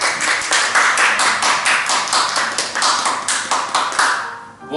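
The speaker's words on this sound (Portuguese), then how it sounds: "Vamos aplaudir o Senhor, que merece toda a honra e toda a glória" A church congregation claps in praise, a rapid, fairly even rhythm of many hands applauding together, close and lively, tapering off at the end.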